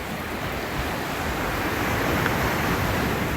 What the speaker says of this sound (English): Concrete piers. Should last longer, but these waves are relentless.